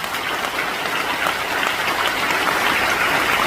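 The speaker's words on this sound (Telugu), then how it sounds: "అందరికి రెండు చేతులు ఉంటే మాత్రం ఒకసారి గట్టిగా క్లాప్స్ కొడితే మాట్లాడతాం." An audience claps together in a hall, a dense, steady wash of hands that stays even and fairly loud throughout with no voices on top.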